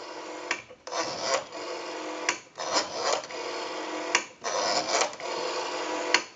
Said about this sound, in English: We have a nice smooth return on the rotary.